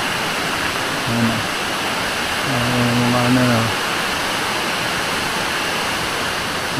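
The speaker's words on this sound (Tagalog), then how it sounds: "Tapos ayan pa, oh, mga mini falls." Small cascades of a Palawan waterfall rush in a continuous, broad wash of water noise, with a person speaking briefly over the steady flow.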